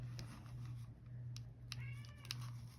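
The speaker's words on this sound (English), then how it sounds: "you hear my cats" Pet cats meowing while playing indoors, several short meows including a rising, wavering call near the end, fairly faint over a steady low hum.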